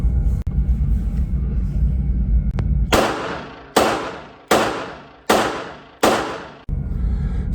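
A Taurus Model 85 revolver fires five loud, sharp shots at an indoor shooting range, spaced less than a second apart, each followed by a quickly fading boom over a steady background hum of ventilation.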